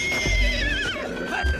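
A mare cries out in pain with a loud, strained whinny that rises and wavers over about a second and a half, close by, with a faint low thump of hooves underneath.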